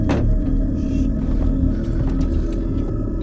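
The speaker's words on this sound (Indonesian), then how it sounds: "mereka dikejutkan dengan suara mobil polisi yang akan lewat" A police car drives past in a zombie survival film, a steady loud engine rumble rolling through without pause and no talk.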